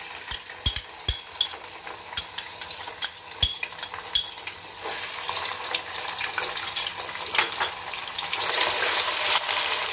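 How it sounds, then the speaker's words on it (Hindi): Garlic fries in about 1 to 1.5 cups of oil, opening with clinks and taps of a utensil against the pot over a low bubbling, then swelling into a louder, steady sizzle toward the end. "लहसुन को 1-2 मिनट के लिए फ्राई करेंगे"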